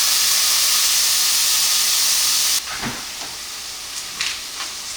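Zucchini noodles sautéing in a hot pan: a loud, broad steamy hiss for the first half that cuts off abruptly, followed by quieter scattered sizzling and a few soft utensil clatters.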